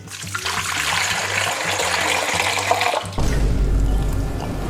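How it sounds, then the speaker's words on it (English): Water pours and trickles steadily out of a cooking pot through a narrow gap held open by a toothpick under the lid, a continuous close splashing that turns heavier and louder near the end. "if you take the toothpick and you put it in between the lid and the pot, you should be able to drain the water without a strainer"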